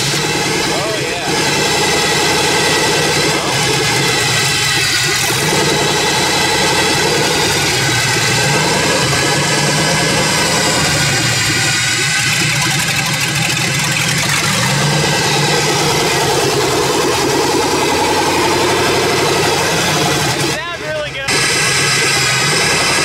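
An LS-swapped Ford Mustang idles loud and close with a lumpy, popping exhaust note that stays constant throughout, with people talking faintly underneath.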